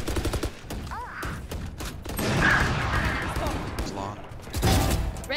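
Rapid bursts of gunfire from the Valorant video game, loud and repeated through the clip, mixed with talk and game effects.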